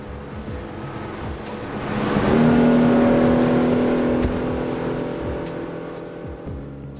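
Mercury 225 V6 outboard engine on a Centurion hardtop fishing boat, running with a steady drone that swells to a louder hum and then settles back, close by, with no talking.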